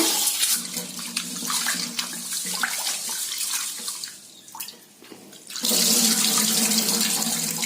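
About 300 grams of basmati rice is washed in water for a biryani: running and sloshing water splashes in a sink, pauses briefly, then a louder rush of water pours in.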